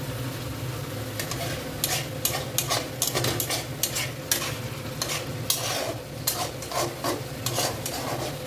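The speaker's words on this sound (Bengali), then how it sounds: "একটু ধৈর্য ধরে তরকারি কষতে হবে" Potato curry being sautéed and stirred in a pan, with a continuous sizzle under repeated rhythmic scraping strokes of a spatula against the metal pan, close and steady, with no voices.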